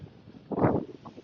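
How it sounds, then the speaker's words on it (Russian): A single short gust of wind buffets the microphone outdoors in Crimea in February, a brief low rumble rising out of quiet background. "Тут еще и ветер."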